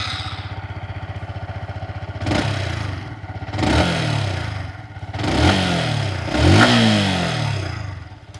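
A Yamaha XSR 155 motorcycle engine idles with a steady, even beat, then gets several sharp throttle blips that rise and fall in pitch. It sounds close and clean.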